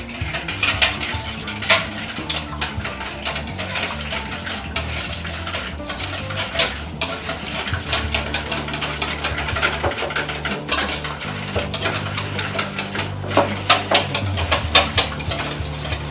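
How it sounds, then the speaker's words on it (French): Eggs whisked in a bowl for a fish tart, a fast, continuous clattering scrape of utensil against the bowl, close and busy throughout with no pauses. "On les fouette un peu."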